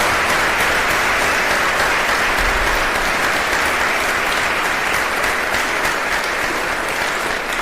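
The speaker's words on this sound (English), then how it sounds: "Let's give all our 2017 Kaleidoscope winners a big round of applause" A loud, continuous round of applause from a journalism awards audience honoring the 2017 Kaleidoscope winners, with dense clapping sustained throughout.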